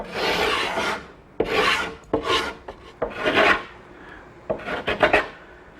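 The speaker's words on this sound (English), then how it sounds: "Now I want to bevel the entire bottom edge of the transom so that it's at the same angle as the keelson." A hand rasp or file bevels the bottom edge of a wooden boat transom, giving about seven rough rasping strokes in uneven bursts with short pauses, close and fairly loud, with no talking.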